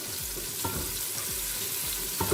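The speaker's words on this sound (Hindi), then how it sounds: "थोड़ा सा लहसुन को फ्राई करेंगे।" Garlic paste frying in melted desi ghee in a pan, a steady close sizzle with soft rhythmic stirring scrapes repeating throughout.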